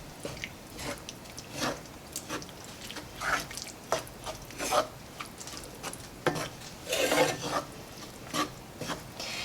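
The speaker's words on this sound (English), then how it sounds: "And then we're going to give that a stir." Mashed black beans for a cheesy chipotle dip are stirred in a bowl, giving repeated soft, wet squelching and scraping strokes in an uneven rhythm, close and fairly quiet.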